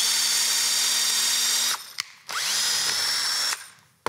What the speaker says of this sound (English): I'm gonna put that in there like that and just start to drill.